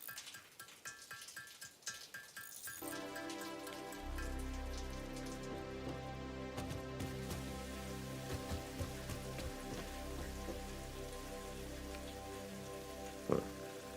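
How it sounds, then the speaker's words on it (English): In Satisfactory, rain patters on surfaces in a dense, continuous crackling hiss, rather faint, with a steady droning hum and music-like tones underneath. "Is that the rain sound I hear?"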